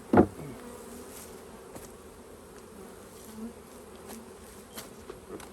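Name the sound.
honey bees buzzing at an open hive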